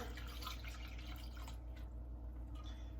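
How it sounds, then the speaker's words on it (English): Homemade hummingbird nectar poured from a measuring cup with a spout into a feeder jar, a soft continuous trickle of liquid with light splashing over a low steady background hum. "pour it into a measuring cup with a nice pour spout and into the hummingbird jar."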